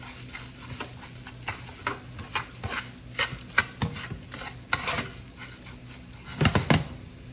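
Risotto rice toasting in hot oil in a pan with a spoon scraping and stirring, giving a soft continuous sizzle broken by irregular clinks and scrapes, close by with no talking.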